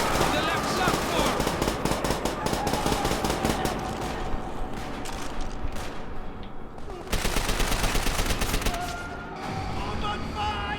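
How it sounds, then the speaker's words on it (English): MG-42 machine gun in Call of Duty: World at War, firing in long, loud, sustained bursts with dense rapid rattling, briefly easing then surging again, mixed with battle noise and voices. "MG-42 on the left platform!"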